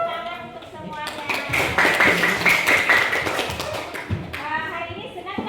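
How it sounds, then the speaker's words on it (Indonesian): Classroom applause, a burst of clapping from a group of schoolchildren, swelling in the middle and fading, with children's voices chattering over it. "tepuk tangan untuk semuanya"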